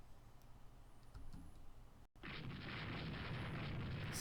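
Battleship guns firing in the naval game Rule the Waves II: a low rumbling boom, then after a brief cutout a loud, sustained roaring blast that carries on to the end, with no talk.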